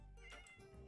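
A cat in the video game Minecraft meows close and clear, one short call under steady game background sound.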